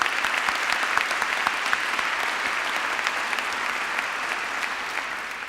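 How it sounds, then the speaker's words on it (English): Sustained applause from a conference audience at the 8th ABSL Conference, dense steady clapping that holds evenly throughout and fades slightly at the end. "The big applause to Janusz, if I may ask."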